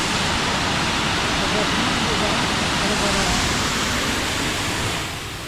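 A waterfall roars as a steady, dense wash of rushing water, loud and continuous throughout, with no break.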